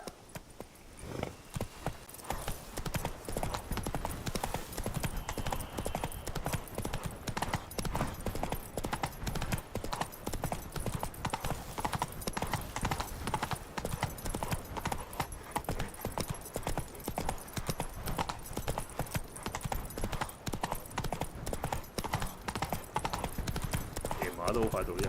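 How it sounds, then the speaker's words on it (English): Galloping hooves of Roach, the horse in The Witcher 3: Wild Hunt (HD Reworked Project NextGen mod), a steady rapid clip-clop running throughout over game ambience, with a voice talking at times. "直接騎馬返歸"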